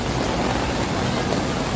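Heavy rain pours down at a Ramadan bazaar in Malaysia, a dense, even hiss of downpour with no pauses.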